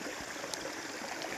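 A hillside stream runs steadily over rocks along a hiking trail, a continuous close rushing wash with faint trickling detail and no voices.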